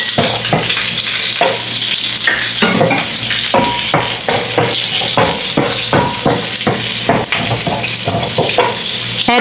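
Green onion stems stir-fry in a hot pan for a beef, pepper and mushroom dish, with a loud continuous sizzle broken by repeated sharp scrapes and knocks of a utensil against the pan.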